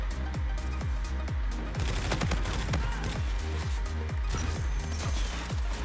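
Automatic weapon fire in Call of Duty: Infinite Warfare during a Hyper team deathmatch, dense rapid bursts of gunshots with booming low impacts throughout, loud and continuous.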